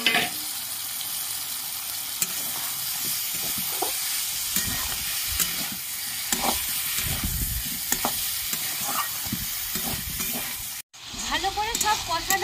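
Fried potatoes and gati taro stir-fried in a spice paste with turmeric and salt give a steady close sizzle, with scraping stirs throughout, a brief cutoff near the end and then more sizzling.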